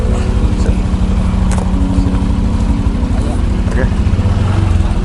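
A motorcycle engine drones steadily and loudly up close on a ride in rural Pandeglang, Banten, Indonesia, a constant low rumble with slight shifts in pitch.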